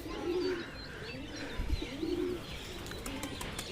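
A white pigeon with black-tipped tail feathers coos repeatedly while trying to land on a rooftop, soft rhythmic coos close by over faint ambient chirps.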